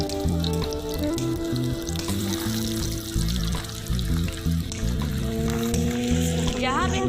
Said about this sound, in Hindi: तो अब हम अपनी फ़िश को फ्राई करेंगे बहुत ही आराम के साथ।